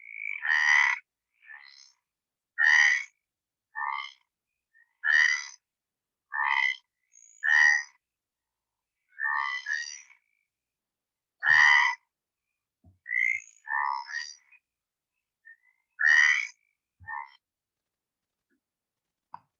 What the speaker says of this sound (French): Et on a la rainette méridionale.